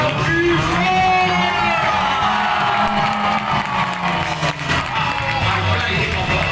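Audience at a monster car show cheers, whoops and yells loudly and continuously for a stunt driver, dense crowd noise throughout with no pauses.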